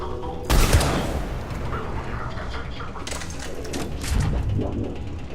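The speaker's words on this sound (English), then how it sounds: "Commander, we're getting a lot of mortar fire." Mortar fire in the video game Mass Effect 3: a loud, close blast bursts in early, followed by a sustained rumbling barrage, then a second heavy impact near the end.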